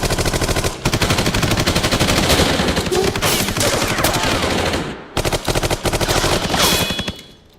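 A film shootout fills the scene with loud, sustained automatic gunfire in rapid bursts, broken by a brief pause before another burst resumes.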